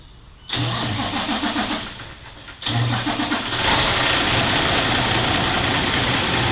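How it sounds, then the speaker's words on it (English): A truck's engine is cranked during a CDL pre-trip inspection. It catches loudly, dips briefly, then cranks again and settles into a steady, rumbling idle close by, with no talk. "I'm going to climb up in the truck and I'm going to crank it up"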